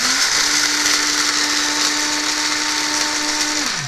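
An electric spice grinder whirs steadily at high speed while grinding spices for puerco pibil. The loud, close motor whine holds for several seconds, then winds down as it is switched off.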